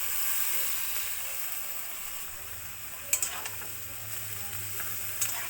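Fish frying in a wok of mustard oil with white cumin tempering, a steady low sizzle and hiss with a few sharp crackles and spatters near the middle and end.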